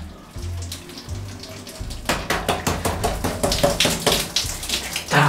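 Water runs and splashes for a bath, rising louder midway into a steady stream with irregular splashing and clatter, close and fairly loud with no talking.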